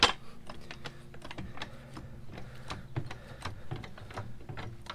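Repeated clicking, ratcheting strokes from a jack being pumped under a Honda Ridgeline to raise it, fairly close and steady over a low background hum, with no talking.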